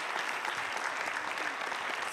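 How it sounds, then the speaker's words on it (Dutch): Steady, dense audience applause at a children's prize event, a full crowd clapping continuously throughout, moderately loud with no voices standing out. "Een groot applaus en heel erg dankjewel."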